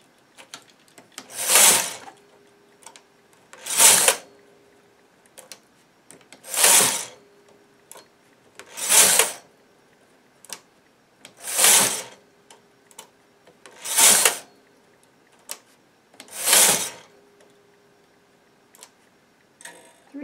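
A hand-operated knitting machine carriage is pushed back and forth across the needle bed while knitting a tiny Christmas stocking, giving eight loud, evenly spaced rasping sweeps with brief quiet gaps between, and no voices.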